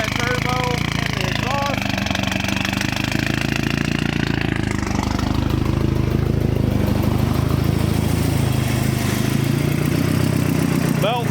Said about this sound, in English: Finally got her idling a little bit. Definitely still needs a tune.